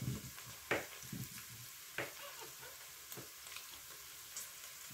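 Mushrooms browning in a Cookeo multicooker pot, a steady soft sizzle with a few louder stirring scrapes and knocks, close and fairly quiet, with no voices.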